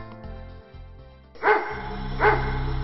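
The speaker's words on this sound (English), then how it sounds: "it heard the sound of guns and barking dogs" Two sharp dog barks ring out about a second apart in an animated fairy tale, fairly close, over a steady low background hum.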